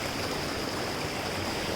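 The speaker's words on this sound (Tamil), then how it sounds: "இன்னும் மேலே நிறையா தண்ணி சத்தம் அதிகமாக கேட்குது." Flowing stream water on a hill trek at Kolli Hills rushes in a steady, even wash of noise, heard alone with no voices.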